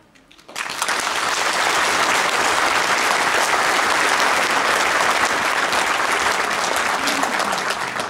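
An audience applauds at a memorial event of the Metropolis of Kastoria, a dense, loud wash of clapping that swells in within the first second and holds steady to the end.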